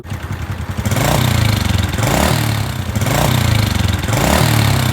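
A car engine that is starting to burn engine oil runs close by, its revs rising and falling in a repeating pattern of surges, loud and throaty with no talking.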